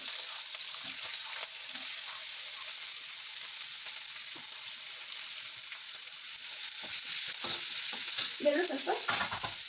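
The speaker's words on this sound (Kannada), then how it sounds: "ಬೆಳ್ಳುಳ್ಳಿ ಆದ ನಂತರ ಈರುಳ್ಳಿ ಹಾಕ್ಕೊಳ್ಳೋಣ" Onion and garlic sizzle in a hot pan with steady broadband frying hiss, punctuated by occasional scraping stirs that grow busier toward the end, with no one speaking.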